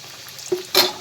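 Samosas fry in oil on a low flame, heard as two short close sizzling bursts a moment apart, the second louder and crisper.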